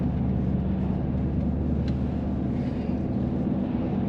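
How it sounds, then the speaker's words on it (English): Porsche Cayenne idling with a steady, low exhaust drone, close and continuous with no talk over it. "we need to talk about the exhaust note and the sport button on this car."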